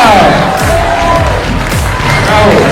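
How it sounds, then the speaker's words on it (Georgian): Crowd at a wrestling bout cheering and clapping after the fight, a loud dense roar of voices and applause close around, with shouts mixed in. "აპლოდისმენტები თუ შეიძლება!"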